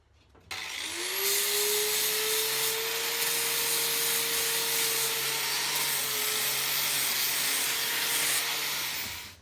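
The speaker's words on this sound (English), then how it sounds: "I'm just going to grind off some of this rust so that we can get to a good surface to work on." An angle grinder spins up with a 40 grit flap wheel and grinds rust off a piece of scrap steel for an anvil horn, a loud, steady, rasping whine held close for several seconds before winding down, with no talk.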